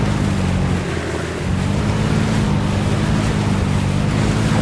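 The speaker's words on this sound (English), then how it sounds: "Cut the engine, close up," A boat engine runs steadily in the ARMA 3 military game, a loud, constant low drone mixed with rushing water and wind noise, dipping only briefly.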